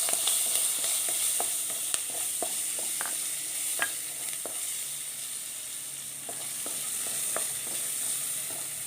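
Chopped garlic and green chilies fry steadily in hot oil with a constant hiss, punctuated by light scattered spatters and clicks of stirring throughout.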